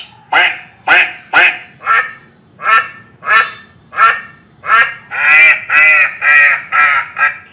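A duck quacks loudly and close by, about a dozen quacks in a steady rhythm, faster toward the end.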